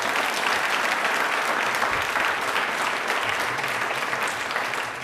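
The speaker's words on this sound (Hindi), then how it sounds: "एक बार जोरदार तालियां हो जाएं" Loud, dense applause from an audience at a televised quiz programme for Dr. Bhimrao Ambedkar Jayanti, sustained and even throughout without talk.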